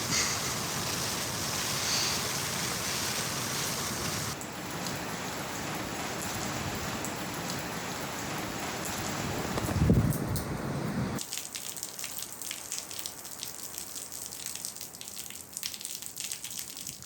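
Steady rain falls in Japan during a Shikoku pilgrimage walk, a dense hiss of drops that shifts tone partway through as if landing on a shelter or different surface, with no voices.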